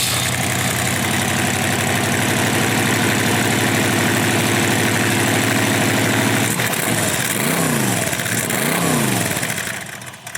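A Cobra car's engine runs close by at a loud, steady idle, then revs up to about 3,500 RPM in two rising-and-falling sweeps before settling back, with no talking.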